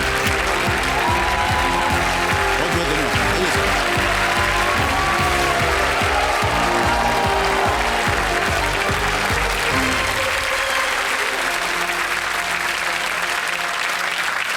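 Studio audience applause on a televised quiz show, a loud, dense, steady clapping that fills the clip, with a voice briefly over it.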